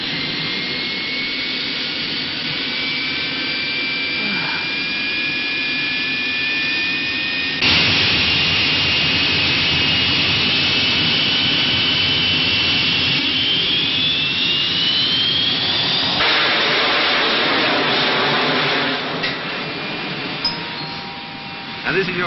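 Jet airliner engines drone steadily in flight, a loud continuous roar heard from inside the cabin with a shift in tone partway through and faint chimes near the end.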